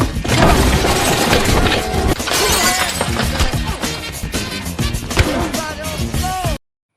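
Household furniture and objects crash, smash and shatter during a fight in a film, a dense, loud, continuous burst of breaking glass and impacts mixed with a music score, ending abruptly.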